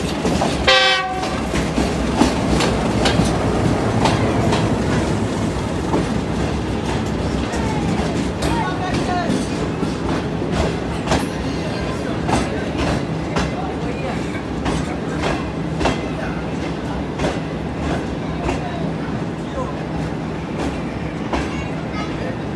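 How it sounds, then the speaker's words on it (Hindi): Pakistani express train passing on the rails, opening with a horn blast followed by a steady rumble and rhythmic clickety-clack of wagons rolling by, close and loud. "रहमान बाबा एक्सप्रेस 48 डाउन ने पाकिस्तान एक्सप्रेस को किया क्रॉस"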